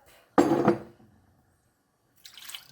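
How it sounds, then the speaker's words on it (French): Canned tomatoes are poured into a cooking pot for ratatouille with fried pork: one loud wet splash up close, a short silence, then a softer sloshing tumble. "je vais verser tout de suite mes tomates"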